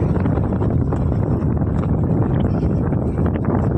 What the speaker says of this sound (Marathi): वारा बघा किती आहे तो खूप हवा सुटले आहे